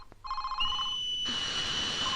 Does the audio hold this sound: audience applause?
no